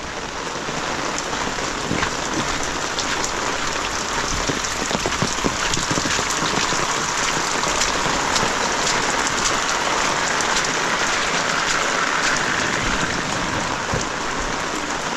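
Steady monsoon rain pours down in a Konkan village, a dense, continuous hiss of drops hitting surfaces close by, even in loudness throughout with no voices.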